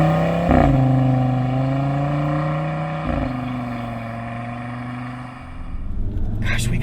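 Audi RS3 with a 2.5-liter turbocharged five-cylinder pulling hard under launch control, heard from inside as a loud, steady engine drone with rising pitch, two brief shift breaks, and passengers talking over it.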